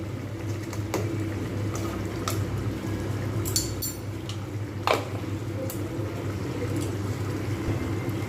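Ghee being added to a simmering patal paneer curry of pointed gourd and paneer in a pan, with soft bubbling and sizzling, plus a few sharp clicks of a spoon against the pot.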